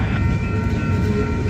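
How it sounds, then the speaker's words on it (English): A short Union Pacific freight train passes close by in St Paul, a loud continuous rumble and rolling rattle with a faint tonal whine throughout. "Oh wow, that's a pretty short train actually."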